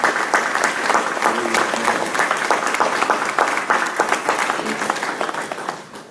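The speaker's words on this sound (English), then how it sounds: "I ask that you join me in a hand clap of praise for them" A hall audience at a community gathering bursts into sustained, dense applause that holds steady for several seconds before tapering off near the end.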